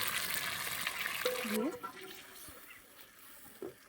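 Water pours and splashes into a pot of rita fish and potato curry, a rushing stream that stops partway, followed by faint kitchen clatter.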